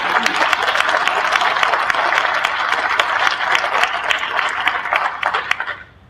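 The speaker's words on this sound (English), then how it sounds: "let's give them a round of applause" A school district audience gives a round of applause, dense close clapping with a few sharp individual claps, steady for several seconds before tapering off at the end.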